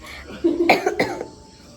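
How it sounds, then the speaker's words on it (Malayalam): A few sharp coughs close up, a quick cluster of bursts followed by quiet. "എനിക്ക് ഭയങ്കര ചുമയാണ് ഗൈസ്"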